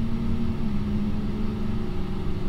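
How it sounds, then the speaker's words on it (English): An Airbus A320 engine spools up in Microsoft Flight Simulator, a steady mid-pitched mechanical hum with a constant droning tone, heard alone and evenly loud throughout. "Love the sound of the engine startup,"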